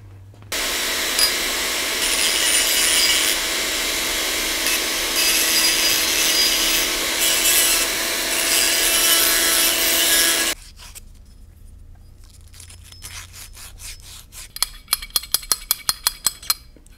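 A roll pin in a Hurst shifter is deburred with a hand tool, giving about ten seconds of loud, steady rasping scrape, then a quieter gap and a burst of quick, sharp metallic ticks near the end.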